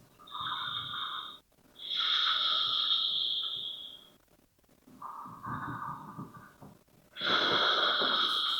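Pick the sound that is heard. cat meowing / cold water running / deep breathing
deep breathing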